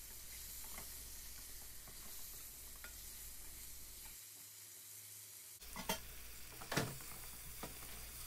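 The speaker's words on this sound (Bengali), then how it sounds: "আমি চিংড়িটাও দিয়ে দিলাম।" Shrimp frying in a pan while cooking a sour red spinach soup, a steady low sizzle with occasional scrapes and clinks of stirring, a brief quieter gap, then louder stirring strokes.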